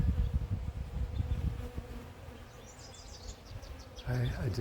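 Dense, continuous buzzing of many honey bees swarming around a hive entrance, heard close and steady with a brief louder burst near the end.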